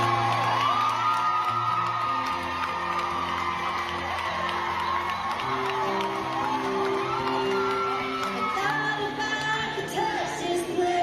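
Concert crowd cheering, whooping and shouting continuously, with high excited voices over music with a low, steady beat, loud and sustained from start to finish.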